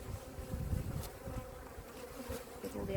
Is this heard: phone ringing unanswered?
no